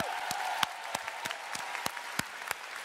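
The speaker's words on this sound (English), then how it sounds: "give yourselves a round of applause for joining us here in Anaheim" An audience at PlayStation Experience 2017 in Anaheim claps steadily in a dense wash of applause, with a few sharper individual claps standing out near the front.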